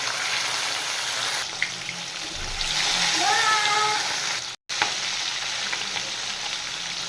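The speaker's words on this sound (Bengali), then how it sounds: "তেল গরম হয়ে গেছে এবার আমি মাছগুলো ভেজে নেবো" Strong, continuous sizzle of rohu and bata fish frying in hot oil, with a person speaking briefly over the crackle and a short dropout midway.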